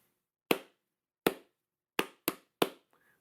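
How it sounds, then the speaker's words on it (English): Hand claps, five sharp bursts in an uneven rhythm, the first three spaced widely and the last three close together, each loud and close in a quiet room with silence between. "If I'm now going to clap"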